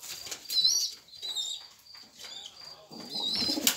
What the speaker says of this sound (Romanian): Deci aceștia sunt porumbei maturi.